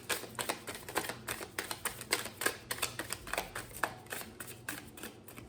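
Tarot cards shuffle in rapid, papery riffles, a quick irregular run of close, soft flicks and taps with no talking.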